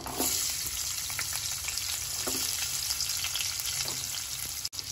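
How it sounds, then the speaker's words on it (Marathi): Onion frying in oil with cumin and mustard seeds for veg paneer pulao, a steady close crackling sizzle with occasional stirring taps and a brief dropout near the end. "जिरं घालूया 1 चमचा, मोहरी 1 चमचा आणि आपण कांदा भाजून घेऊया चांगला लाल होईपर्यंत"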